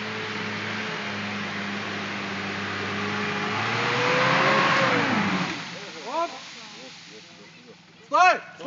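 A car engine idles with a steady low drone, then rises into a loud rev that swells and fades around the middle, followed by shouting voices near the end.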